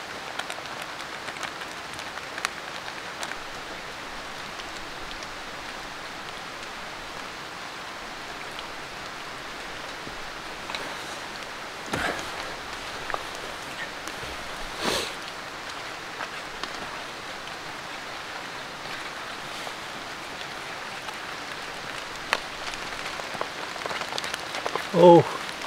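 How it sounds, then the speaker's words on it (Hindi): Light rain falls steadily on a deep forest camp with a bushcraft shelter, a soft continuous patter with a few sharper drop hits, and faint movement near the end. "हल्की हल्की बारिश होनी स्टार्ट हो चुकी है अब।"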